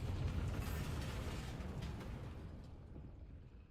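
Blast of the Bombarda spell in Hogwarts Legacy: a single booming burst at the start that fades into a rumbling, mechanical decay over several seconds, fairly faint overall.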